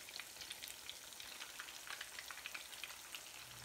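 Fish fillets fry in hot oil with a steady, close crackling sizzle and scattered sharp pops throughout, no voices.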